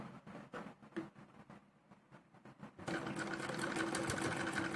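A sewing machine stitching a small girl's salwar, first running in short rhythmic bursts, then settling into a continuous close whirring hum, with no talking.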